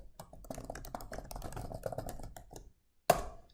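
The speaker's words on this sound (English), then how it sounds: "Here, you simply type in your term" Fast, close tapping of a computer keyboard as a search term is entered for a dictionary lookup, a rapid run of clicks ending in a brief pause and one sharper keystroke.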